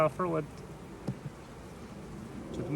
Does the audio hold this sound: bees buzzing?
yes